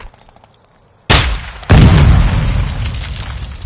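A grenade blast in the Call of Duty: Modern Warfare II video game, a sudden loud boom followed by a second heavy explosion with a long rumbling tail, close and dominant.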